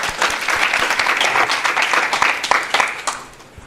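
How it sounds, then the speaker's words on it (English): Steady crowd applause at an academic camp gathering, dense and moderately loud with individual sharp claps standing out, fading away toward the end. "applause"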